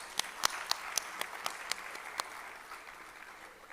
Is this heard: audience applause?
yes